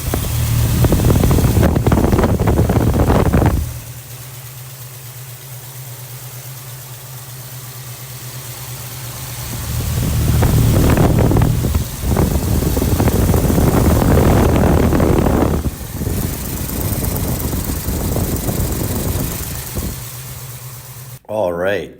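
A 1973 Ford Mustang Mach 1 with a 351 Cobra Jet engine idles steadily, its belt-driven fan whirring close up in a low, even hum that swells and dips a few times.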